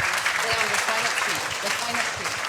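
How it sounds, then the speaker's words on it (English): Audience applauds the panelists at a talk on grief, a fairly loud, dense run of clapping with voices and murmuring mixed underneath throughout. "Thank you for a big round of applause for our panelists."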